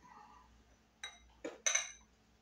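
Chopped mixture tipped out of a Thermomix mixing bowl into another bowl, heard as a soft scrape followed by three sharp metallic knocks and clinks of bowl against bowl, close and alone in a quiet kitchen.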